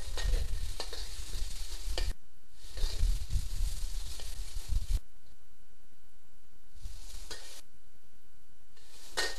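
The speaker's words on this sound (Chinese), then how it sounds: "把鸡丝炒熟之后" Shredded chicken stir-fried with chopped garlic in a pan, giving a steady loud sizzle broken by bursts of scraping and stirring, with brief quieter gaps between.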